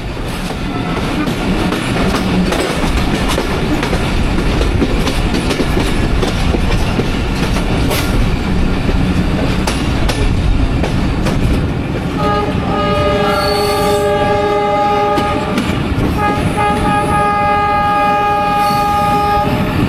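The Rohanpur commuter train in Bangladesh, running from Rajshahi to Nachol, rumbles and clatters loudly along the rails, then sounds its horn in long repeated blasts over the running noise.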